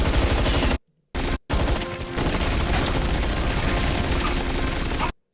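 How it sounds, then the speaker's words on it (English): Atlas units in the Stormgate video game unleash a loud, dense barrage of rapid gunfire-like blasts and explosions, sustained and close, broken by a few abrupt silent cuts. "those explosions are so big for the Atlas"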